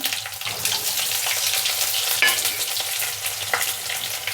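Onions and garlic frying in a pan for a cabbage and chickpea curry, with a steady close sizzle and occasional stirring scrapes throughout, no voices.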